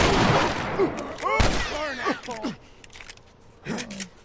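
Sharp gunshots in The Last of Us Remastered crack in a short burst at the start and again mid-clip, mixed with louder in-game voices and shouting.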